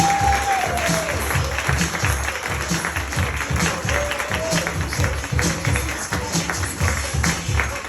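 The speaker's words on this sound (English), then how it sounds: "get our players back in with music and applause" Audience clapping in steady dense applause at a live grown-up comedy game show during a break, loud and continuous with music and a few voices underneath.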